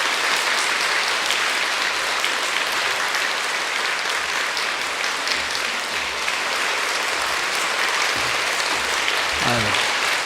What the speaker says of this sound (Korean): 우리 최종도 목사님 앞으로 나오실 때 우리 한번 힘차게 박수로 환영해 주시면 좋겠습니다